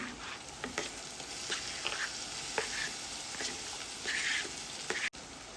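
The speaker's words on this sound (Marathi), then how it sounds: "टॉमॅटो मऊसर झालेला आहे वांग घालून घेते" Eggplant dropped into a pan of softened frying tomato sizzles steadily, with scattered pops and crackles and a few stirring scrapes, close and moderately loud with no talking.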